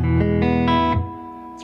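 Electric guitar played through its pickup with an effects unit, several sustained notes and chords ringing close and clear, ending in a short plucked note.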